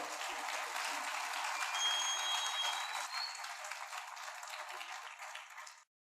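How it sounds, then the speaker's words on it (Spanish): Congregation in a church gives a sustained round of applause, dense crowd clapping that holds steady for several seconds before cutting off abruptly, with no talking over it. "Dele un aplauso al Señor Jesucristo"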